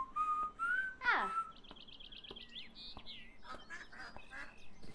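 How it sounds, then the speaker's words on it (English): Ducks in Beyond Eyes give loud, honking quacks and whistly calls in quick irregular bursts, close and overlapping, with other bird chatter behind them and no talk. "The ducks are loud."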